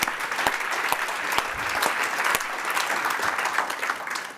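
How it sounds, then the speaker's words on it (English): Audience applause at an ecommerce industry summit, a steady dense wash of many hands clapping that holds at an even level for several seconds with no talk over it. "So give yourselves a round of applause."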